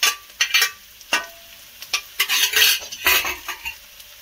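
Onion, garlic, ginger and green chili stirred in a pan over medium flame for a jackfruit dish: repeated scraping clinks of a spoon against metal over a soft sizzle, no voices.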